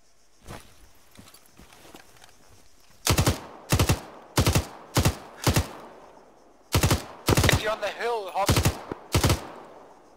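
Loud bursts of automatic gunfire from a military video game, fired at white smoke. Rapid, sharp bursts come in two clusters, each a string of short, evenly spaced volleys, against quiet background noise.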